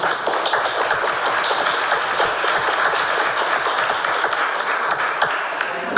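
Steady, dense applause fills a board of education meeting room, many hands clapping together at an even, sustained level for the full stretch without a break.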